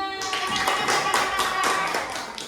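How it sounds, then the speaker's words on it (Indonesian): Students in a religious-education classroom clap together for all the groups, a dense burst of hand claps at close range lasting the whole moment, with a steady tone humming faintly underneath. "tepuk tangan buat semuanya"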